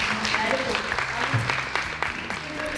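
Audience applause at a youth gathering in Dublin's North Inner City: a dense, steady patter of many hands clapping, fairly close, with voices mixed in underneath.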